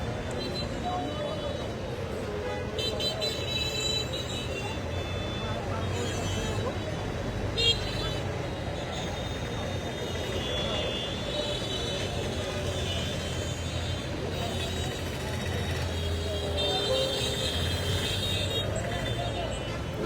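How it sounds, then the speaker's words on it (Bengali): Traffic on the Gazipur highway, congested with stopped vehicles, makes a steady engine and road rumble beneath someone talking throughout, with faint hints of horns. "মাঝখানে গাড়ি ঢোকার ফলে গাড়িগুলো দাঁড়িয়ে থাকে, অন্য গাড়ি যেতে পারে না"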